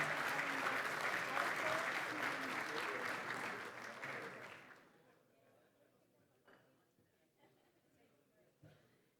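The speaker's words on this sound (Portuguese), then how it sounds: "E podemos receber o Sr. Ministro com um aplauso" A hall audience at a dentists' congress opening ceremony applauds loudly for about five seconds, then the clapping fades quickly into quiet room tone with a few scattered last claps.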